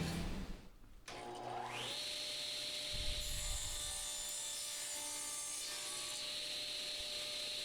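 A power tool trims the four sides of a small wooden scrap piece. After a short scrape, a motor spins up to a steady high whine that cuts continuously at close range.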